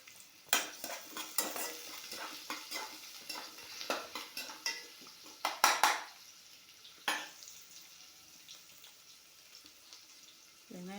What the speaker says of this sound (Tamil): வெங்காயம் போட்டுக்கலாம். அது கொஞ்சம் நல்லா பொன்னிறமாக வதங்கணும்.